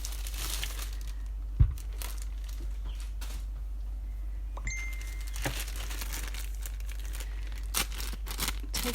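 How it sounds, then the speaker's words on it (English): Plastic wrapping is pulled off the box of a Stampin' Up! Cut & Emboss machine, giving soft intermittent crinkles and rustles in a quiet room, with one sharp knock early on and no talk. "get the plastic off."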